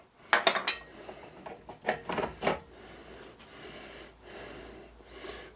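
Metal clinks and clanks as bolts come off the bearing caps of a stripped-down Locomobile engine. Several sharp taps and rattles are close by, followed by quieter handling noises and breathing.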